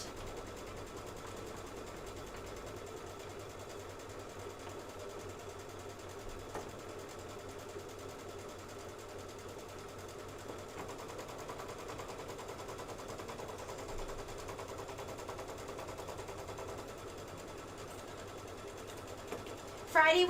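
An embroidery machine runs a long, steady stretch of rapid, even stitching chatter up close, with a faint voice now and then beneath it and a brief clatter at the very end.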